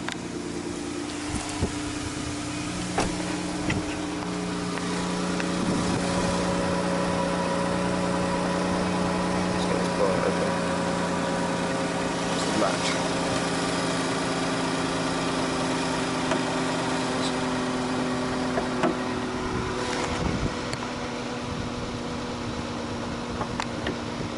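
A 2015 Dodge Grand Caravan's 3.6-litre V6 runs at a steady idle, a smooth continuous hum with a few faint clicks and knocks, heard up close and without talk.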